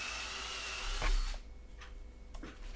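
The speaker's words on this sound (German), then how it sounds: "habe ich die Bohrung kurzerhand mit dem Akkubohrschrauber erledigt." A cordless drill driver bores blind holes in wood with a loud whirring burst that stops after about a second. A few faint clicks and knocks follow in quiet.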